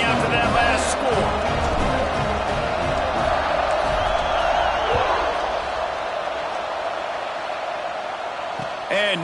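A stadium crowd in an NCAA college football video game keeps up a loud, steady roar after a long touchdown, with a commentator talking over the buzzing noise throughout.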